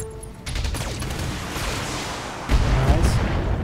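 Heavy mech weapons blasting in the video game BattleTech: a sharp burst of fire opens, a rumbling volley trails on, then a second, louder heavy impact lands near the end, with brief talk underneath.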